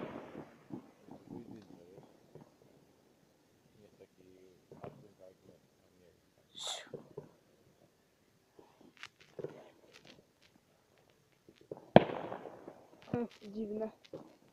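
New Year's Day fireworks burst at a distance in scattered, sparse pops and bangs, one sharper crack standing out, with a voice talking quietly between them.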